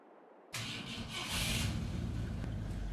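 A classic Ford car engine in Farming Simulator 22 cranks and fires up after a brief quiet moment, settling into a steady rumbling idle, fairly faint overall.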